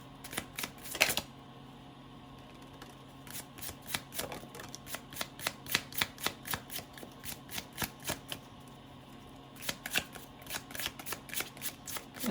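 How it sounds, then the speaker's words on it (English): A deck of spirit-reading cards is shuffled in repeated quick riffling bursts, close and fairly loud, with short pauses between runs and no talking. "So we're going to pull these little cards and see what comes out."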